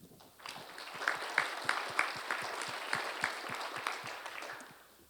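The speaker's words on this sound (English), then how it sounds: "So if you could please join me in giving them a round of applause for their hard work" A board meeting audience gives a round of applause, steady distinct claps from a modest group in a room, moderately loud and fading out after a few seconds.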